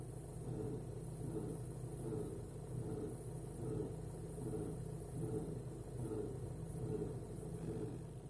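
A 2007 Volkswagen GTI MK5 engine idles steadily at operating temperature, a low continuous rumble with a faint repeating chirp or rattle from a worn belt tensioner, close and unbroken with no talking.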